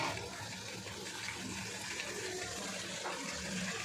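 Water used to rinse the spice bowl pours into frying masala with a faint, steady rushing hiss and bubbling that runs evenly throughout.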